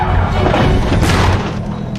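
A Lamborghini that slid out of control on a wet road crashes into a fence, a loud sustained booming smash that fills the whole moment before tapering a little.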